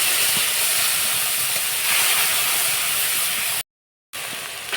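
Spice paste hits a hot pan for a vegetarian jackfruit dish, giving a loud, steady hiss and sizzle that cuts out abruptly for a moment before resuming.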